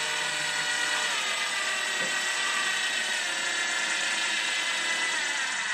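A DeWalt gyroscopic screwdriver slowly driving a screw during assembly of a Defender Customs TRX4m four-door truck kit, giving a steady, close, high-pitched motor whine that holds without pause and carries no talk.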